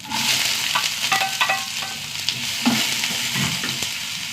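Mustard seeds, sliced onion and green chillies frying in hot coconut oil, a steady close sizzle with scattered popping crackles and a few stirring scrapes, no voices.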